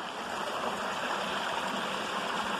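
River water flowing over rocks in a stony hillside landscape, a steady close rushing and burbling stream that keeps a constant level, with no voices.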